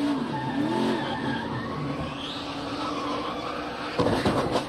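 A race car loses grip and slides into a SAFER barrier at a stock car race, a long skidding tire roar with a brief rough impact burst near the end, distant and broadcast-like.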